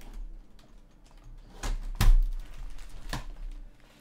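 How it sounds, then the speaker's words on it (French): A cat stepping across the numeric keypad of a computer keyboard, a few scattered soft key clicks and taps at irregular intervals, close and quiet with no talk. "Ça va de marcher sur les touches du clavier là"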